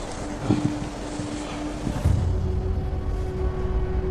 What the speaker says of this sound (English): It's cold and windy up here.